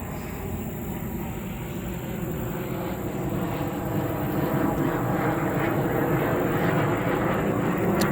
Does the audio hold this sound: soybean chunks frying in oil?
no